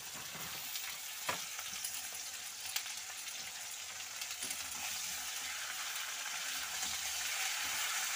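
Shredded cabbage goes into a pan for Bengali-style vegetable khichuri and fries with a dense, steady sizzle. A couple of sharp clatters rise out of the hiss, which grows slightly louder toward the end, and there is no speech.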